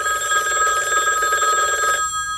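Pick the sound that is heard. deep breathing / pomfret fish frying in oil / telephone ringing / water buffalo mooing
telephone ringing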